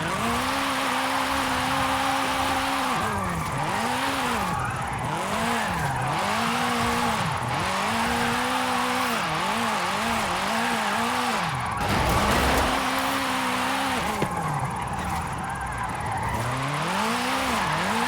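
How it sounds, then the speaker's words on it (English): A 2010 Renault Megane RS 250 with a 660-horsepower rally engine and AWD drift tune in Forza Horizon 5, engine revving up and down repeatedly in loud rhythmic waves while tires squeal continuously through the drifts. "Plenty of power from the rally engine."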